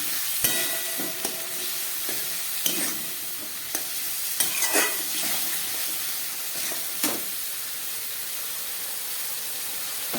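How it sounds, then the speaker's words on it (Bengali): Turmeric paste with chilli powder and a little water being stirred and sautéed in a pan for a fish curry, soft sizzling and spoon scrapes with a few sharp clicks, close but fairly quiet. "খুব ভালো করে আমি এবার এটাকে কষিয়ে নেব"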